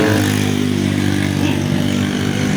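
A loud, rough Honda XR200 motorcycle engine with loose valve clearance idling up close, with a steady throbbing drone and a rattly clatter.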